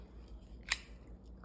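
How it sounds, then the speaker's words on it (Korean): A single quick snip of scissors cutting knitting yarn, one short crisp cut in an otherwise quiet room. "가위로 잘라서"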